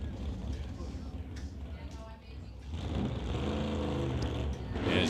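Drag racing cars roar down the track at a Mission Raceway NHRA divisional event, the engine noise swelling loudly in the second half while an announcer talks over it.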